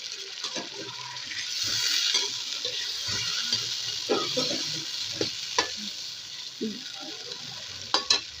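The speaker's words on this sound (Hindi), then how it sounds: "अब इसमें करेंगे हम गर्दनें फ्राई" Chicken necks fry in a pot of dark-browned base for chicken pulao, with a constant bubbling sizzle and irregular spoon scrapes and knocks close by.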